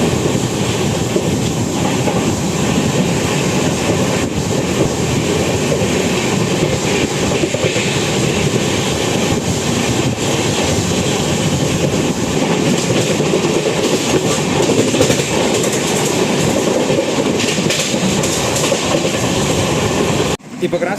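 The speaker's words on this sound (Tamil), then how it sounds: "இப்போ கிராஸ் ஆச்சுல கோவை எக்ஸ்பிரஸ்" Kovai Express train passing close by on an Indian railway line, a loud continuous roar of wheels on track with steady clickety-clack rhythm lasting throughout before cutting off at the end.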